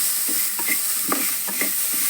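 Onions sizzle in a hot pan while a spoon scrapes and stirs them in quick, repeated strokes.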